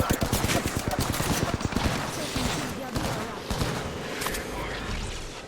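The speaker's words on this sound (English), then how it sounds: "But there's another team shooting us." Rapid gunfire from an opposing team in a gang-themed video game, dense volleys of shots loud in the first two seconds, then thinning to scattered bursts, with voices talking over it.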